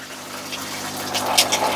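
Water rushes steadily from an instant water heater, a running hiss and gush that builds slightly louder toward the end, with a low mechanical hum beneath.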